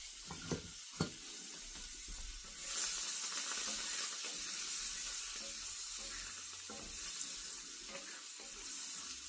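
Butter and olive oil sizzle in a very hot iron skillet, a continuous broadband hiss that swells louder after a few quiet clinks, with no talking.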